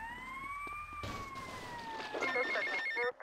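A cellphone rings in GTA Vice City Definitive Edition while a police siren wails and fades. A repeating electronic ring tone then chirps in short, regular pulses, loud and close, before cutting off abruptly.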